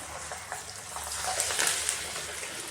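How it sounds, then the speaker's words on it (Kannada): A roti sizzles on a hot pan, giving a steady, close frying hiss with small crackles and no talk. "ತೆಗೆದುಬಿಟ್ಟು ಮತ್ತೊಂದು ರೊಟ್ಟಿ ಹಾಕ್ತೀನಿ"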